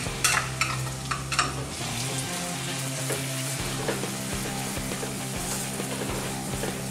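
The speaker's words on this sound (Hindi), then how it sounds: "अब हम ये प्याज इसमें डालेंगे," Two onions sizzle in about 2.5 tablespoons of hot oil while a spoon stirs them, with clacks of stirring at the start over a steady frying hiss, prepared for ragda pattice chaat.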